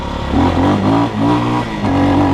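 A Forte Cross 250 motorcycle with a 166 cc pushrod engine accelerates through the gears, its engine note rising in loud, close surges with brief dips between them.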